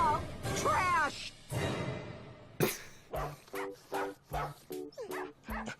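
A cartoon dog from the animated series Wander over Yonder barks in a run of short, evenly spaced yips and bow-wows after some whimpering and voices, loud and close.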